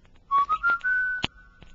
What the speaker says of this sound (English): and a small boy whistling.